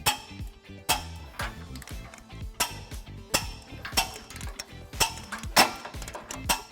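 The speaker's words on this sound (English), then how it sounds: "We're going to go ahead and tighten and torque all of our bolts according to the manufacturer specifications." A ratchet with a 19mm socket and extension clicks in steady, close bursts while trailer hitch bolts are tightened on a 1995 Ford Crown Victoria, the sharp ticks repeating with no voices.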